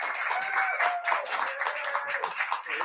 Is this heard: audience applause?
yes